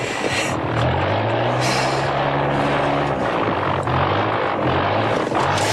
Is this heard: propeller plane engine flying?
yes